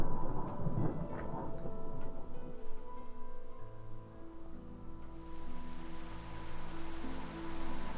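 Steady rain patters and ticks in the video game Rainswept, a dense constant wash that holds throughout alongside low sustained background tones.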